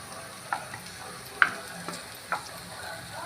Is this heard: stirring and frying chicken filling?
yes